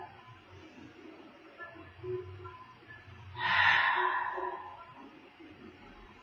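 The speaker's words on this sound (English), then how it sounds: "One more round of breath." A single deep breath drawn in during a yoga practice, a breathy rush of air that swells softly for about a second and then fades into quiet room tone, with no talking over it.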